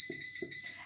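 An air fryer cooking sweet potato wedges at 180 Celsius gives three loud, close, high-pitched electronic beeps in quick succession.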